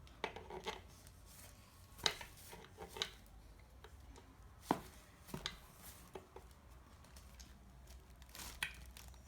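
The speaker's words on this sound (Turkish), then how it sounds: "Böyle hafif vurmak gerekebiliyor. Şöyle tık tık tatlı bir vuruş." Light metal taps loosen the cylinder on a Honda CBF 150 motorcycle engine: scattered sharp clicks and knocks, irregular and fairly close, with quiet handling noises between them.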